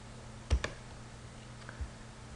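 Two quick, close computer mouse clicks land almost together on a button, followed a moment later by a softer single click, all faint against a quiet room.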